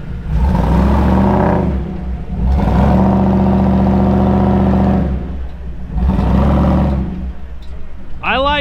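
An off-road razor vehicle's engine revs hard in repeated surges while backing up, loud and close, with a mechanical whine and clatter, rising and falling about three times.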